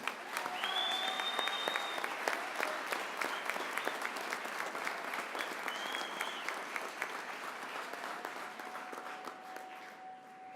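Montana FFA State Convention audience in a large hall gives a sustained round of applause, steady dense clapping for about ten seconds that tapers slightly at the end, with faint tones and a few voices underneath.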